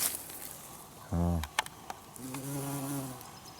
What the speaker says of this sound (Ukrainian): Дружбан джміль. Що, мед збираєш?